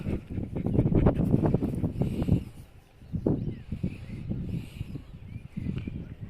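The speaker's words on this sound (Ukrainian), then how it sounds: "вибачаюся за вітер, але вітер просто сумасшедший" Strong gusty wind buffets the microphone in heavy rumbling bursts, easing briefly before roaring again, with faint rustling underneath.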